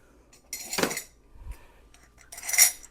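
Rummaging through a kitchen cutlery drawer for a measuring teaspoon gives two short bursts of close metallic clatter and clinking, separated by a brief quiet thump.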